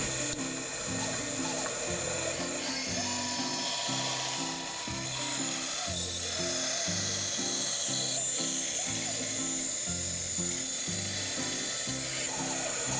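Knife blades for a dagger being thinned down with a power tool, a continuous loud grinding hiss with rhythmic lower pulsing passes, steady and close for the whole stretch with no talking.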